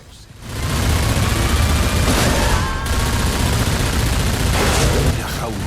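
Mega guns fire in the Mr.Slam game, a dense, loud, continuous barrage of rapid shots and booms that fills the whole stretch.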